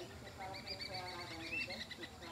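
A flock of white anus (guira cuckoos) calling from inside an orange tree, a busy overlapping chorus of high chattering whistles at middle distance, with someone talking over it.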